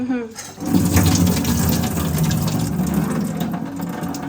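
Water pours and splashes as it is drained off washed rice by hand, a steady, close running flow of a few seconds.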